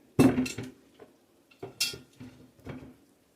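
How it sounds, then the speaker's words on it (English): A Dutch oven is set down and handled, giving several sharp metallic clanks and knocks in uneven bursts, close and fairly loud, with quiet gaps between them. "let's get my Dutch oven here"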